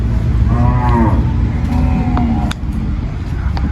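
Fattened cattle at a cattle and buffalo market in Surin, lowing in two long, loud moos over a constant background rumble of vehicles and crowd.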